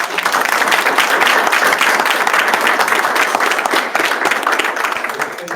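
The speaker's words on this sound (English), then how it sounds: "So give them a round of applause." Sustained audience applause for panelists at a town hall on funding Black and Brown-led organizations, a thick, even wash of many hands clapping that holds steady throughout and tapers slightly at the end.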